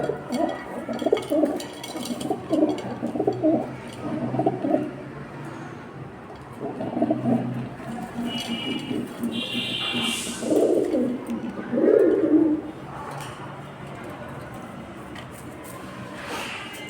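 Racing pigeons in a loft give soft, repeated cooing phrases in bursts, close and moderately loud, with a brief higher rustle or squeak between calls and no clear speech.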